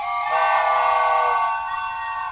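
A train whistle sound effect gives a steady, bright, high-pitched blast lasting about two seconds, loud and alone with no voices.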